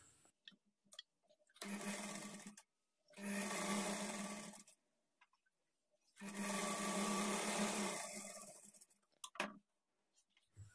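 A sewing machine runs top stitching along a blouse in three separate bursts of steady whirring, each lasting one to three seconds, with quiet pauses between them.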